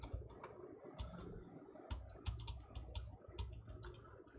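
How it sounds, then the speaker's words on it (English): Steady high-pitched cricket chirping at night with a continuous trill, plus scattered short clicks and chirps, fairly faint and with no talking. "You can hear the birds and the crickets"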